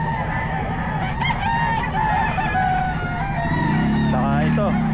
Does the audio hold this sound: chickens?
yes